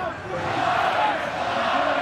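Rugby crowd at a Chiefs versus British & Irish Lions tour match chanting "Lions, Lions," a dense, steady roar of many voices filling the stadium with a rolling rhythmic swell and no break.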